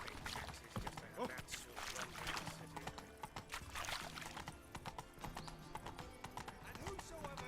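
The horse Roach gallops in The Witcher 3 video game, with quick steady hoofbeats clip-clopping under game music and a voice talking over it.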